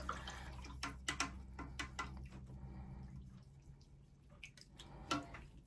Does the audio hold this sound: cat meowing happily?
no